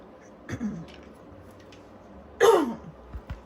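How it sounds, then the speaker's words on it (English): A brief throat clear early on, then a louder, rasping clearing of the throat up close, with quiet room sound between. "I'm having that good old drainage today, which makes me have to clear my throat"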